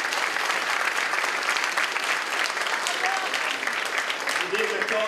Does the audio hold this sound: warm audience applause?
yes